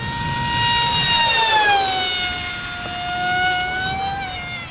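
A Grayson Hobby model jet engine screams at full throttle, its steady high-pitched whine with strong harmonics swelling and easing slightly as the pitch drifts, loud and close with no talk.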